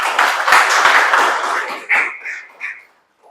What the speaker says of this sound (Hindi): जोरदार तालियां भाई इसके लिए